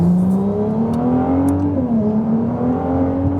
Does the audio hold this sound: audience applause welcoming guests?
no